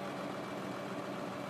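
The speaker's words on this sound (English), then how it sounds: "So let's stop the tractor. Shut off the mower." A tractor with a mower attached runs steadily in Farming Simulator 2013, its engine droning at an even, unbroken level throughout.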